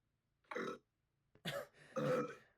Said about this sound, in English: Fucking burps after the silence.